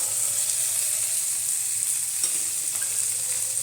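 Parshe fish sizzle in hot oil in a frying pan, a steady, close hiss that runs through the whole stretch with a few faint pops and no voices.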